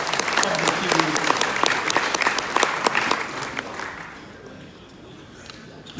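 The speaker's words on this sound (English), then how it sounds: "Please join me to applaud the effort of the Chief Minister." An audience at a peace forum applauds in a hall, a loud spread of clapping with sharp individual claps that tapers off after about four seconds into quieter room sound.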